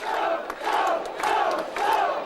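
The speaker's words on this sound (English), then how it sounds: "Crowd lifting them for one final effort." Crowd at a 2002 Workington v Whitehaven rugby league match roars in loud, surging waves of cheering and chanting, rising and falling in steady pulses.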